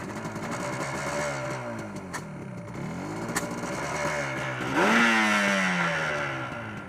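A Yamaha RD400 motorcycle engine runs on its first start on a wet day with one cylinder not firing, revving up and down unevenly in rising and falling sweeps, loud and close.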